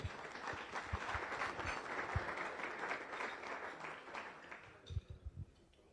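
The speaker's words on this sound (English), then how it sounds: "Could I have a round of applause for everybody?" Faint applause from a crowd at a Rotary Club weekly meeting, steady clapping that thins out into a few scattered claps at the end.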